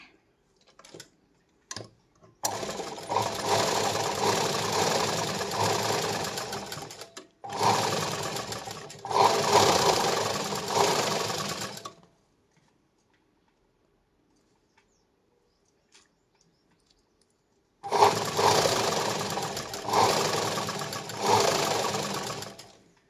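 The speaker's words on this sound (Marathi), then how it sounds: "नंतर याला शिलाई मारायची." A sewing machine stitches a silk blouse in three loud, near bursts of steady whirring, each a few seconds long, separated by short pauses and a longer stretch of quiet, with no talking.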